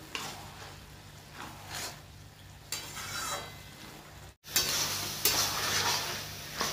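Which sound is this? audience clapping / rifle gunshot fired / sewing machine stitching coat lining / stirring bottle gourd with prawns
stirring bottle gourd with prawns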